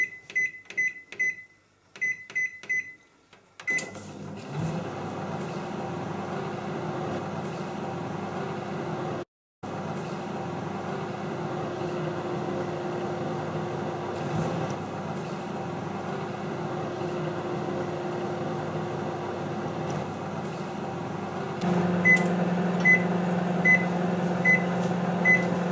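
A microwave oven running on high hums steadily with a low drone, preceded and followed by quick series of electronic beeps from its keypad, with a brief silent gap partway through.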